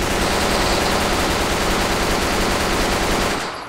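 A SCAR-L assault rifle in a first-person shooter sprays in a loud, unbroken burst of rapid automatic fire that runs close and dense for several seconds before cutting off abruptly.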